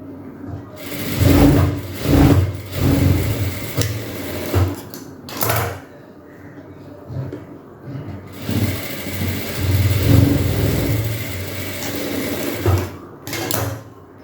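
A sewing machine double-stitches the side seam of a frock in bursts of rapid whirring, pausing briefly between runs, close and clear with no talking.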